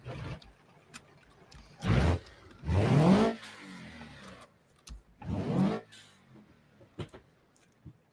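A car engine in the BeamNG driving game revs in three separate bursts, each a rising roar that drops back to near silence, with small clicks between them.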